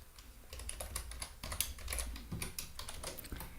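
Typing on a computer keyboard while writing Python code, a steady run of quick, close key clicks with uneven rhythm and brief pauses, no voices.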